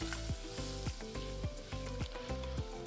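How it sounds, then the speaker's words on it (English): A quarter cup of butter melts in a pan over medium-low heat, giving a steady, close sizzle with soft, regular pulses running through it and no talking. "I'm gonna start with about a quarter cup of butter here. I got the pan on a medium-low heat."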